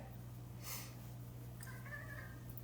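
A faint, close cat meow rising and falling once over a low steady electrical hum, with a soft rustle just before it.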